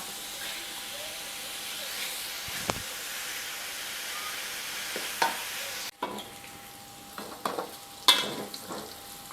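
Pork stir-fries with garlic and salt in a pan, a steady hiss and sizzle broken by utensil scrapes and taps, with a sudden drop in level midway before the clattering resumes.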